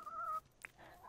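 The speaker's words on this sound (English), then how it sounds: "The fucking chicken noises, man." Chickens in the farming video game Dinkum cluck in a short burst, a bright repeated call followed by a quick sharp squawk, fairly faint and alone.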